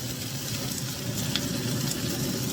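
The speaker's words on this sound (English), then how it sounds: "So I'm gonna sear these onions, put them in here." Onions and squeezed garlic sear in about 2.5 tablespoons of hot oil, giving a steady, close, even sizzling hiss that runs without pause and with no talking.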